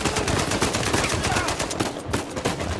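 Rapid automatic gunfire and single shots crackle continuously in a third-person action game, Uncharted 4: A Thief's End, loud and dense throughout with a brief lull near the end.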